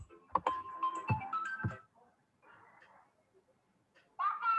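A mobile phone ringtone goes off in the middle of a lecture, a melodic electronic tune with short bright phrases that rings out fairly clearly, pauses, then starts again, with a voice heard briefly near the beginning.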